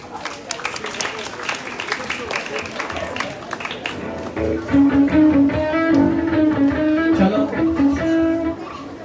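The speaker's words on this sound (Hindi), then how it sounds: "हालेलुया, जोरदार तालियां।" Loud, sustained applause from a congregation at an evangelism meeting in Karachi, a thick burst of clapping that swells midway while music and voices carry on beneath it.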